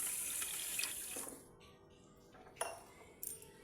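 Water is poured from a bowl into a pan of sugar to make syrup for gulab jamun, a steady close rush for about a second and a half, followed by a few light clinks of kitchenware.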